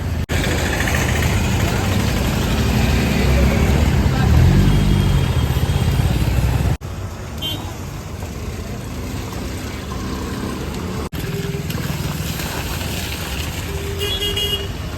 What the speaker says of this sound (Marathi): पूर्ण रिक्षा क्रॉस होते